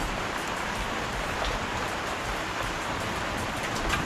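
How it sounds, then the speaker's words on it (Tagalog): Heavy rain pours down in a dense, steady roar that fills the whole clip without letup. "Grabe yung ulan."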